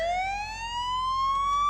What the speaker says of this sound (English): you can hit the siren